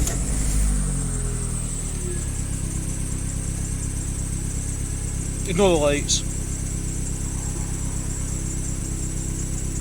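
An MG ZT Turbo, fitted with fresh spark plugs and coil packs, cranks and catches, then settles into a steady close idle with a short rev blip midway while a person speaks briefly.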